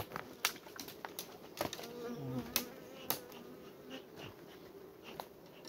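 Honey bees buzz steadily around a hive during a sunflower nectar flow, a dense close hum broken by sharp individual bees zipping past the microphone.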